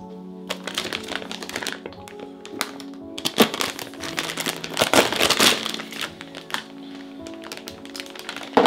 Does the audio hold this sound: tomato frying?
no